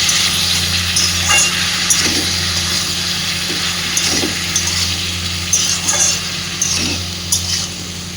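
Flat beans sizzling in a pan with salt stirred through them for a Bengali vegetarian sheem chorchori, a steady broadband frying hiss with a low hum beneath and occasional soft stirring scrapes, no talking.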